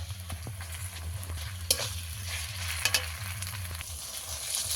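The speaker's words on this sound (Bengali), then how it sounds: "আদা রসুনটাকেও ভালো করে ভেজে নেব।" Onions with ginger-garlic paste fry in hot oil in a home kitchen for a chicken-skin curry, giving a steady close sizzle with a few sharp stirring clicks and scrapes and no talk.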